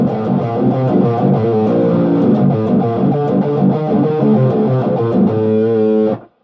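Distorted electric guitar played through an EVH 5150III amp with the gain set at half, a steady run of chords and notes that rings loud and close on its own, then cuts off sharply at the end.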